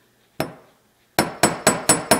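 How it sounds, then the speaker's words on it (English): Hammer strikes flattening the end of a wire for jewelry ear wires: one sharp metallic tap, a pause, then five quick evenly spaced ringing blows, close and loud with no talk. "you're just going to hammer it a few times"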